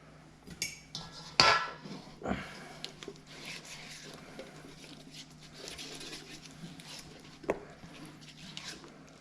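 A utensil stirs sugar into homemade coleslaw dressing in a bowl, with a few sharp clinks early on, then soft, steady scraping and swishing at close range.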